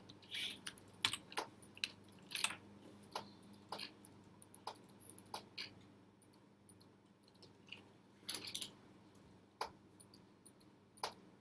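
Keyboard shortcut presses and mouse clicks come from someone working in layered image-editing software, a scattered series of close, light taps and clicks in irregular bursts over a quiet room.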